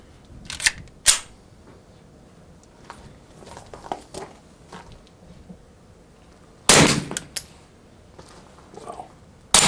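Several 9mm pistol shots suppressed by a short Tatanka silencer: sharp, muted pops at irregular intervals, one much louder crack partway through, with quiet mechanical handling and rustle between them.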